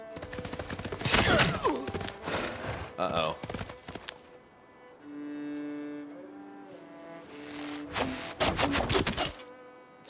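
Hooves clip-clop from a horse unit in Civilization 6, arriving as loud bursts of rapid clopping on either side of a quieter stretch of sustained game music tones, with a brief spoken interjection.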